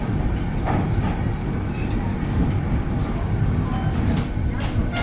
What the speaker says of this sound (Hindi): तो ग्वालियर जंक्शन से तो ट्रेन अपनी निकल गई है और स्पीड अप भी हो रही है।